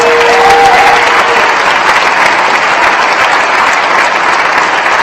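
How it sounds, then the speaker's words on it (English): Loud, sustained crowd applause fills the room at the 2017 Glass Blown Open awards ceremony for a disc golf event, a dense, even wash of many clapping hands with no break, briefly joined by a faint voice. "Give them a round of applause, please"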